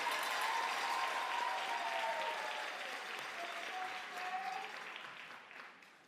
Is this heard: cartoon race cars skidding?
no